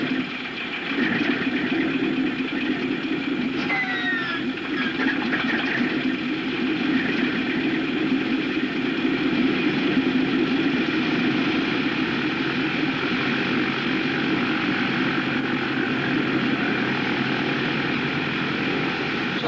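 Steady, loud drone of B-25 bomber aircraft engines idling in a film scene, a continuous propeller hum running unbroken throughout with a few faint higher tones briefly over it.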